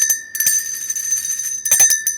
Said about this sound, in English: I'm just going to ring my Liberty Bell.